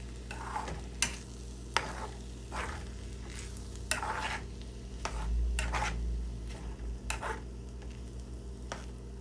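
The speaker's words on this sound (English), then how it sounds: "Just crack it, and then you just slowly mix it into the rice as it cooks" Egg being stirred slowly into rice frying in a pan, a continuous close sizzle with repeated spatula scrapes and taps at an unhurried rhythm.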